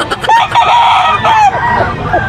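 A gamecock rooster crows several times in quick succession, loud and close, its calls overlapping with cackling from nearby fowl.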